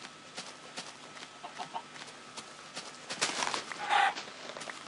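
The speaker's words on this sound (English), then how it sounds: "Hey, I got a chicken." A chicken gives a few soft, scattered clucks amid faint rustling and footstep-like sounds, with a slightly louder burst near the end.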